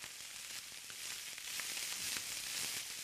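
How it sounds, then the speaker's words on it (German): Coarsely chopped chicory sizzles and crackles steadily in hot rapeseed oil, a dense, continuous frying hiss with scattered pops, close and fairly loud throughout, with no voices. "Den grob geschnittenen Chicorée gibt sie zu heißem Rapsöl."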